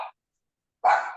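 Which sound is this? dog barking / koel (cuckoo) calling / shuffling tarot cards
dog barking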